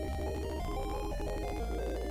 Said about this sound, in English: if I use a fast forward in this, basically it sounds like this